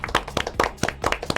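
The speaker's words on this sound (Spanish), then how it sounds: "Un fuerte aplauso para el señor." Studio audience on a talk show claps for an arriving guest, an infectious-disease doctor, in short sharp bursts of close hand claps.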